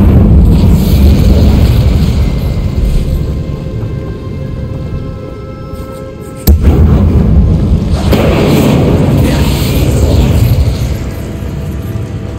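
An Incendio fire spell in Hogwarts Legacy roars as a loud, sustained blast of rumbling, crackling fire, with a sharp burst partway through and the roar continuing at full strength afterward.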